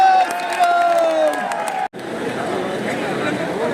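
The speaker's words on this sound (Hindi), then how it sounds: "आदित्यनाथ जी को आमंत्रित करूँ कि आप आए और हम जोरदार तालियों के साथ" Crowd at a political rally in a college ground in Bareilly applauds and cheers, a dense roar of clapping and voices following a loudspeaker announcement, with a brief cut midway before the crowd noise continues.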